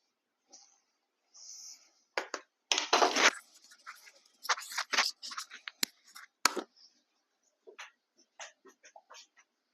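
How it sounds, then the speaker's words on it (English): Chalk or marker scratching and tapping across a classroom board during an engineering lecture on hinged supports, in irregular bursts of short strokes with pauses between, fairly close and without talk. "I will write everything on the board and briefly tell"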